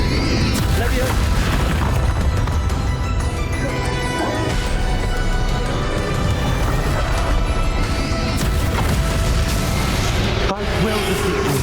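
Spell blasts and explosions from the Hogwarts Legacy game on Switch make dense, loud booms, crashes and bursts over a driving orchestral score, with battle shouts mixed in throughout.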